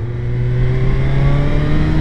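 A Suzuki Hayabusa Gen 3 GSX 1300 R motorcycle engine revs loud and close, a steady, strongly tonal drone held evenly for two seconds with no voices.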